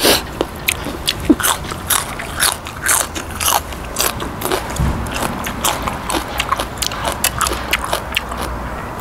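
Crisp fresh raw vegetables eaten alongside spicy Isan pork larb, heard as a close, loud series of irregular crunchy bites and chewing.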